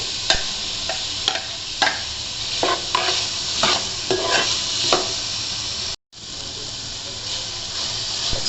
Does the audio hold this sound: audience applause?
no